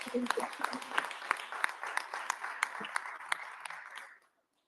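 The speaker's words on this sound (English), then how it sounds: "Clap for them." Small audience clapping at a Ghana Independence Day event in a children's museum, a few pairs of hands giving a sparse, uneven patter with distinct sharp claps, moderately near, fading out to silence at the end.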